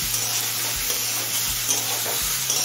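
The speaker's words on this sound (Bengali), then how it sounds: "এবার ডুমুর চিংড়ি আর আলুটা একসাথে আরো কিছুক্ষণ ভেজে নেবো।" Figs, shrimp and potato fry together in a pan with a dense, continuous sizzle and crackle. A low repeating hum and thuds run underneath at a steady rhythm.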